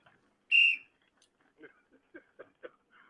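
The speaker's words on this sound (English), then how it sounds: "Put that goddamn whistle away" A whistle gives one short, shrill, loud blast near the start, followed by brief, quiet, clipped voice sounds in an otherwise silent room.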